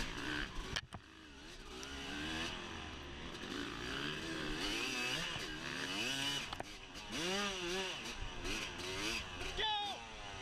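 An off-road dirt bike engine revs and shifts through gears during a motocross race at Fox Valley Off Road, loud and close with other bikes snarling nearby, under a rider's speech.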